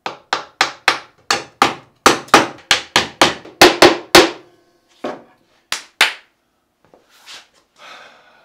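Sharp hammer taps on the wood of a monitor stand, about a dozen in a quick steady rhythm, then a few slower spaced strikes, close and loud with no talking.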